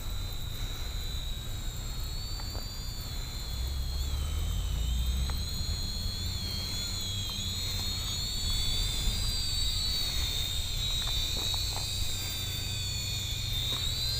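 An Attop A10 quadcopter drone hovers under altitude hold, its propellers giving a continuous, fairly loud high-pitched whine with a low motor hum underneath, steady for the whole stretch with no talking.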